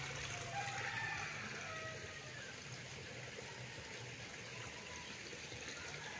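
Spring water flowing out of an opening on a rural farm lot in Siniloan, Laguna, a steady close gushing and splashing that continues throughout, with faint voices underneath.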